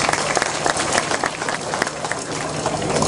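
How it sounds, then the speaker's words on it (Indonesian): An audience claps at a religious talk, giving a dense, uneven burst of applause with scattered sharper claps, loud and close, with no clear voices. "Mari Pak Darmaji, tepuk tangan untuk beliau menjelaskan."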